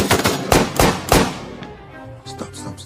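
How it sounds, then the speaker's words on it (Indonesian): Several sharp, loud bangs fire in quick succession, then trail off into scattered fainter cracks and clatter in the distance. "desa itu pun telah riuh dengan suara tembakan di mana-mana"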